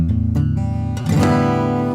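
Acoustic guitar in standard tuning strummed twice, bright chords ringing out with full sustain, close and clear, no voices.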